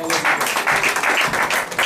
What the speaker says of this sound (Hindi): तालियां परमेश्वर के लिए लगाएं